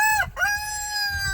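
A rooster crows loudly and close in a chicken yard, one long drawn-out call with a brief break near the start, over a low background of other fowl.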